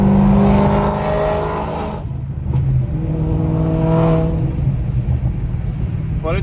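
A loud supercharged GT500 engine revs hard with a high supercharger whine on top, drops back, then revs up again, with voices briefly heard near it.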